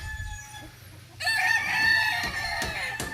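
A Boston Millionaire gamefowl rooster gives one loud, close crow that starts partway through and carries on to the end over a faint background.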